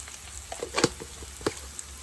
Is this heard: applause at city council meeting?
no